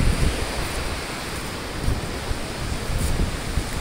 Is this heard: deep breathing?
no